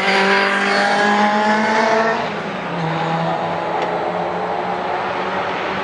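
The number 4 Coupe Monaco race car roars past loudly at the Goodwood Madgwick Cup, its engine note dropping sharply as it passes and then fading into a steady distant drone.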